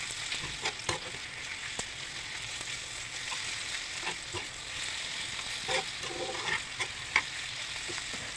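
Onion frying in a pan toward golden brown, a steady close hiss of sizzling oil with occasional soft stirring knocks, no voices.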